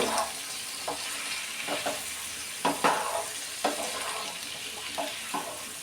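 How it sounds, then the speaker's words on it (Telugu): Tomatoes fry in a pan for a tomato and green chilli chutney, a steady sizzle with a series of spatula scrapes and knocks as they are stirred, no talking. "టమోటాలు అయితే ఫ్రై అయినాయి కొంచెం మగ్గించుకోవాలి కలుపుకుంటూ"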